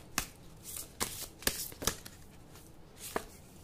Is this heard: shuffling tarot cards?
yes